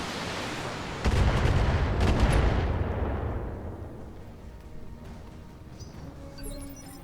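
Long-range missiles fired by a Trebuchet mech in the BattleTech game burst out together in a loud, booming salvo, then trail off into a fading rumble over several seconds with a few scattered later impacts.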